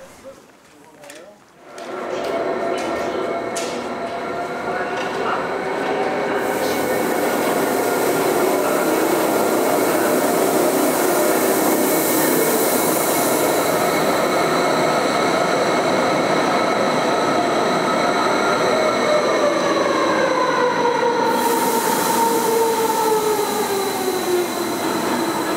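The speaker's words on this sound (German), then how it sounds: "Jedenfalls verläuft ab hier die Fahrt bis aufs Jungfraujoch hoch," Jungfraubahn rack train climbs through a mountain tunnel toward Jungfraujoch: after a brief quiet start, a loud, sustained rumble with rising and gliding motor whines builds and holds steady, echoing in the enclosed tunnel.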